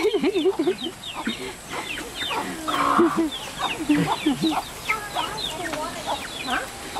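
Chickens cluck and squawk close by at a cultural village in Borneo, giving a busy stream of overlapping calls, with people talking now and then.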